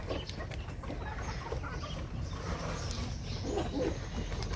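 Chickens cluck softly amid a constant murmur of farmyard background noise, with no voices.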